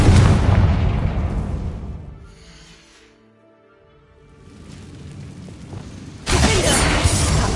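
Spell explosions in the Hogwarts Legacy video game, Bombarda and Confringo blasts: a loud shattering burst that decays into quiet, then a second heavy blast hits near the end, both close and full, with no talk.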